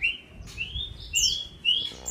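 A branjangan (bush lark) calls with a run of bright, high whistled chirps and sweeping notes, close and clear over a faint low background hum.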